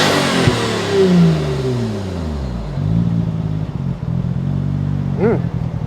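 A Nissan RB26DETT with aftermarket cams and an aftermarket exhaust muffler revs up loudly, then the pitch falls back and settles into a choppy, lumpy idle burble, close and loud with a brief blip near the end.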